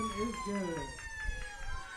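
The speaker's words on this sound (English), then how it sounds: "Tornado siren goes off." A tornado siren sounds during a high school varsity football game, a steady sustained wail carrying over the stadium with crowd noise and talk underneath.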